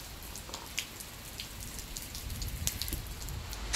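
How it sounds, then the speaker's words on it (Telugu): Rain falls steadily on a self-built house, heard from inside as a soft continuous patter with scattered sharper drips and drops, no voices. "ఇప్పుడు వర్షం పడినప్పుడు ఇంటి లోపల ఎట్లా ఉంటుందో చూపిస్తాను మీకు"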